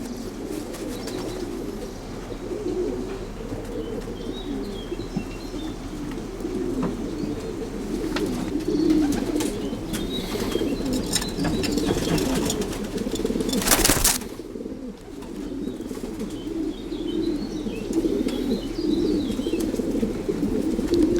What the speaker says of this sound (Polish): Super gołębie na krzyżówkę na swoje najlepsze lotniki